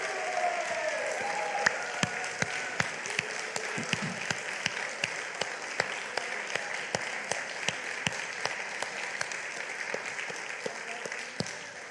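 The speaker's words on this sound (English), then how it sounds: "Now give them a round of applause" A church congregation claps together at a Sunday celebration service, a steady dense round of applause that lasts throughout, with a few sharper individual claps standing out and a faint voice underneath.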